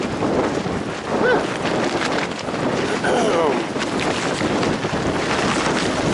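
Strong, gusty wind buffets the microphone on a beach beside a sandbar and ocean during a storm, a steady loud roar with brief whistling tones and no talking.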